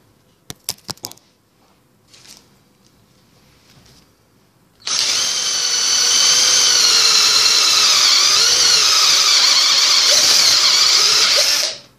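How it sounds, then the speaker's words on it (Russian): A power drill fitted with a spade bit bores into wood for a handmade wooden box, whining loudly and steadily for about seven seconds after a few sharp knocks, then stopping abruptly. "И перьевым заводим сверлышком"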